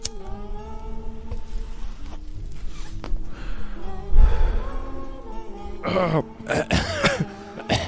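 Several rough coughs and throat clearing, close and fairly loud, scattered in short bursts over a muffled background with some voices.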